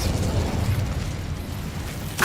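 A fire spell, Incendio, is cast in the Hogwarts Legacy wizarding game, giving a sustained rushing, crackling roar that ends in a brief, sharp flare-up.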